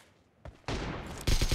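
Video game gunfire bursts out suddenly after near quiet, a sharp shot followed by a dense, loud volley of rapid shots continuing to the end.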